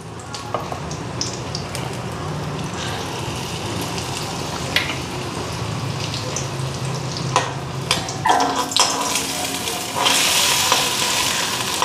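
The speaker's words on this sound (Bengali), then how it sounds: "দেখো কতগুলি বড়া ভাজছি" Gram-flour and egg fritters sizzle in hot oil, giving a steady, close frying hiss that grows brighter and more crackly toward the end, with no talking.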